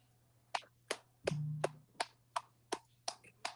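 Sharp, close hand claps or snaps, eight crisp isolated hits at a fairly even pace, with a brief low hum under one of them and no talking.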